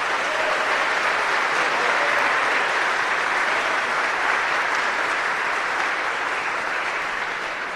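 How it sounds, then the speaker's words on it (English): An audience at a Veterans Day 2021 ceremony at Palmer Trinity School in Palmetto Bay, Florida applauds the veterans, a loud, dense and steady wash of clapping that fills the whole stretch without letting up. "let's give a round of applause for our beloved veterans"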